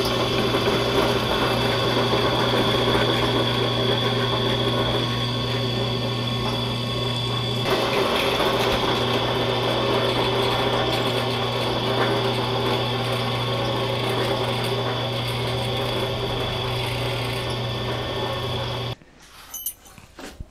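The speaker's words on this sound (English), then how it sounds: "So I got my holes drilled." A power drill drilling small holes in a Leatherman gives a steady high-pitched motor whine almost continuously for about twenty seconds, then cuts off abruptly into quieter handling noises.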